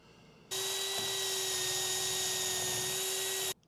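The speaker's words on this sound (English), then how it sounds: "I'm going to put a couple of trim screws in here." A power drill drives trim screws into a wooden stair railing, one steady high-pitched whine lasting about three seconds, close and loud, with no talking.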